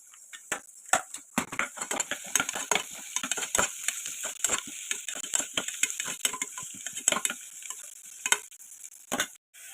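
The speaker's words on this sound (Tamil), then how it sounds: "வெங்காயம் வதக்கிட்டோம். இப்போ தக்காளி போட்டாச்சு." Onions and tomatoes fried in a pan for chicken gravy, stirred with a metal spoon that makes sharp repeated scrapes and clinks over a soft steady sizzle, close by with no talking.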